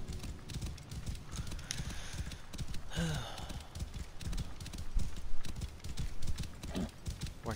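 Rhythmic clip-clop of horse hooves trotting along in the video game Assassin's Creed Origins, steady and fairly close, with faint game-like background sounds and a brief whinny-like squeal partway through.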